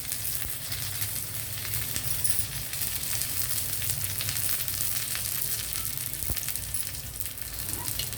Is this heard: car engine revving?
no